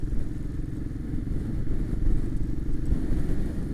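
A Honda 650 Transalp motorcycle rides through mud on a green lane, its engine a steady, loud low rumble with clattering and slight revving throughout, no voices.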